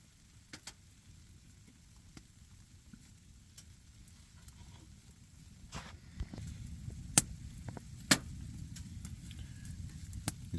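Bratwursts sizzle in a pan at a snowy hot-tent campsite, a steady low frying hiss with scattered pops and clicks that grow louder and busier toward the end.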